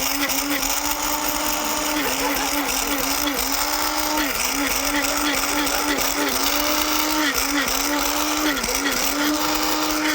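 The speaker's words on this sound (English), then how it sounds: "Now you can actually make your own green tea powder with the tea leaf, and you put it over here with a spice grinder." A spice grinder whirs steadily as it pulverizes green tea leaves into fine powder, a loud continuous motor whine with a wavering pitch that holds throughout, with talk faintly beneath it.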